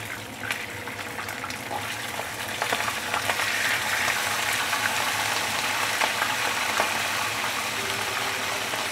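Fish frying in a non-stick pan, a steady close sizzle that swells slightly as the fillet is flipped, with light scraping of the utensil against the pan.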